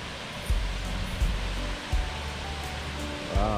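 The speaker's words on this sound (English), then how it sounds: "see waterfall come up from the mountain up there." Broadband rushing water from a waterfall tumbling down a mountainside outdoors near Las Vegas, a steady roar of falling water with a few low wind bumps.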